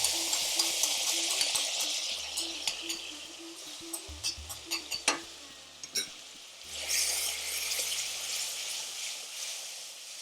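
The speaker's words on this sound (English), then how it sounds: "Well, let's put in this tomato paste." Tomato paste being added and stirred into a frying Madras curry, with soft scraping and clinking of a utensil against the pan over a low background hum, with a few sharper knocks in the middle.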